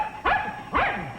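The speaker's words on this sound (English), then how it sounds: "It's a brave dog." Two sharp barks from a single dog, close by and spaced about half a second apart, with a quiet background between them.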